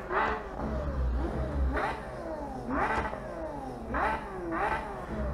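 A Porsche GT3 RS engine revs repeatedly in the racing game Assetto Corsa on the Nürburgring Nordschleife, giving five rising-and-falling revs that climb and drop in pitch, loud and close with no talk.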